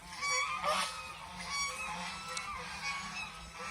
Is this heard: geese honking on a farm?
yes